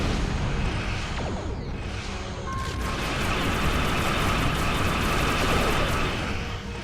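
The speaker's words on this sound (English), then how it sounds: "Phaser cannons." Phaser cannons firing in the space combat game Star Trek Online: loud, rapid, continuous energy-weapon bursts rattle throughout, and a sustained electronic tone joins partway through.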